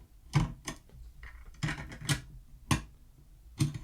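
Sparse mechanical clicks and clunks from a cassette tape player mechanism, a handful of sharp taps spaced irregularly over a faint background hum.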